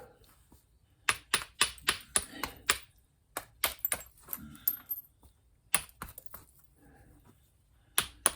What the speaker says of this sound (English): I'm just trimming this overhang back.